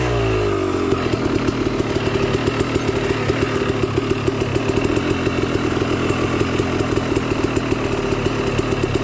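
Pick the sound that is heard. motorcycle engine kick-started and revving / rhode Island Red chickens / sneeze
motorcycle engine kick-started and revving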